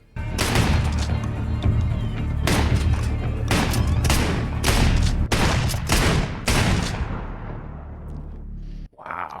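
Gunfire at a shooting range in a TV drama: a rapid series of loud, booming shots in clustered volleys, echoing and then fading out near the end.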